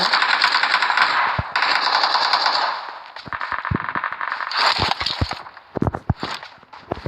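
Shotgun fire in the mobile battle royale game PUBG Mobile, several sharp blasts in the second half among rapid bursts of gunfire and movement noise, loud and close with no talk.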